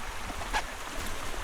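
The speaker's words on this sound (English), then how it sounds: "Just that sound of the creek flowing by while you're camping or having a fire." A mountain creek flows past a woodland campsite, its steady rushing, burbling water close by and continuous, with no voices.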